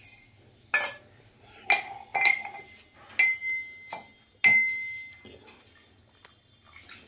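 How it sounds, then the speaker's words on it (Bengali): Dried lentil dumplings (bori) being broken up by hand for a taro-stolon curry, giving a handful of sharp, ringing clinks spaced about a second apart against quiet kitchen background. "এইভাবে আমি কুটে নেব বিরির ডালটাকে আস্তে আস্তে।"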